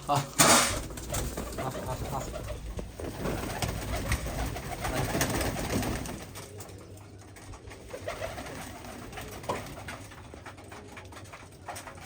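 Pigeons coo close by while people talk over them, with bursts of wing flapping near the start as large birds are released.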